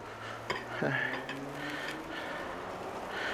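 Shrimp sizzle softly over direct heat on a grill, a steady low hiss broken by a few sharp metallic clicks of tweezers against the grate, with faint talk in the background.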